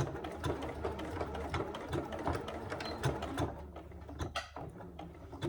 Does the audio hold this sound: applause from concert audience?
no